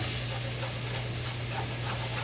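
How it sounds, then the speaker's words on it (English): Beef stock hits a hot pan to deglaze it for beef tips with gravy, giving a steady, loud broadband steam hiss that holds evenly throughout with no talking. "Basically right here you're deglazing the pan."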